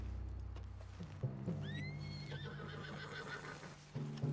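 A horse in Red Dead Redemption 2 lets out a rising, wavering whinny over a quiet game background of low ambient tones, with a few soft hoof sounds nearby.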